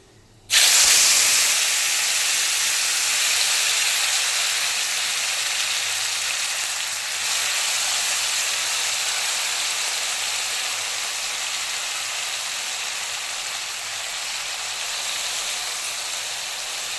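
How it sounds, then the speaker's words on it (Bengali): A loud hiss erupts suddenly and keeps going as small fish hit hot oil in a wok, a steady sizzling spray that slowly eases off; no voices. "আর এই যে এটা এখন আমি এখন কড়াইয়ে ছেড়ে দেবো"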